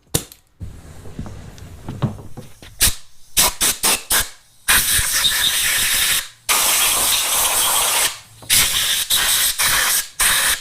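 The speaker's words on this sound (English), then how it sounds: "let me pull this head out and blow it off" Compressed air blasts onto a Honda VTEC Type R cylinder head in loud, close hissing bursts, several short ones first and then longer sustained blasts separated by brief pauses.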